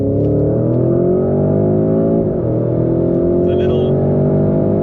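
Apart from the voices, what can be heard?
Porsche Cayenne accelerating in Sport Plus mode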